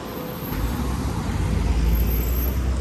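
Steady traffic on a busy beachfront avenue in Guarapari, Brazil, with cars and heavier vehicles passing close by in a continuous low rumble and no talk.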